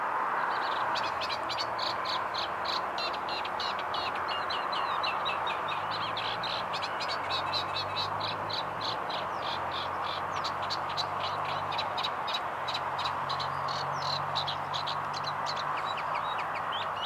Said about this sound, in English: Reed bunting.